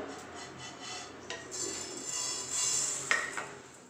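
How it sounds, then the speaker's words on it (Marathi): Roasted sesame seeds are scraped out of a pan with a spoon, a close run of soft metallic scraping and rustling that ends in a brighter clink near the end. "आता मी हे तीळ काढून घेणार आहे।"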